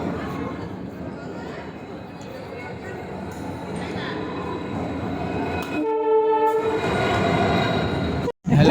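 A train pulls into Manmad Junction station, its wheels rumbling and clacking steadily before a loud, sustained horn blast sounds close by, with station noise continuing afterward.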